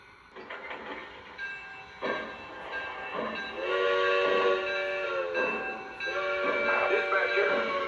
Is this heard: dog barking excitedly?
no